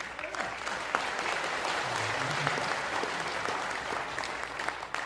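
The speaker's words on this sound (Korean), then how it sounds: "충청도는 말하고 10분 있어야 박수 치는데 곧바로 박수를 치시네요" An audience of Vietnam War veterans and their families bursts into applause at a commemorative rally, steady dense clapping filling the hall for several seconds without a break.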